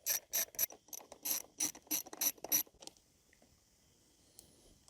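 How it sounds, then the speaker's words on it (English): Ratchet wrench undoing bolts on the side plastics of a KTM 690 Enduro motorcycle, about ten crisp close clicking strokes in quick rhythm, then near silence. "I'm just going to remove the whole side plastics. It's only 2 bolts anyway, so very easy."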